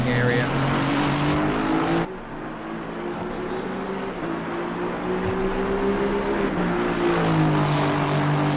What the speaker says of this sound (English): Downshifts, hard braking area.